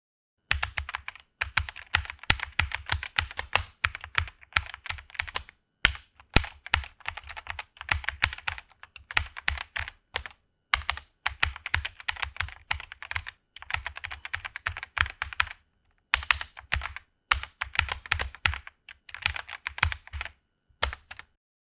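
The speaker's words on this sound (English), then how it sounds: "Type your text." Steady typing on a computer keyboard, rapid clicking keystrokes in bursts with short pauses, close and clear with no talking.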